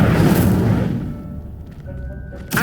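An Incendio fire spell in Hogwarts Legacy bursts out as a loud, roaring boom that fades over about a second into a quieter tail, with a faint tonal hum and a small thump near the end.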